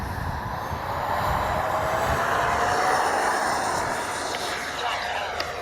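An RC MiG-29 model with twin 64mm electric ducted fans roars steadily on takeoff with flaps set, a loud continuous whooshing whine outdoors with wind rumble, while a voice speaks faintly underneath.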